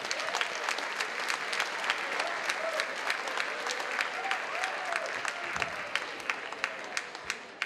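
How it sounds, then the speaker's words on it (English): An audience at a high school and middle school band festival applauds, producing a dense, steady wash of many hands clapping that lasts the whole stretch at an even level, with no pauses. "let's give her a round of applause."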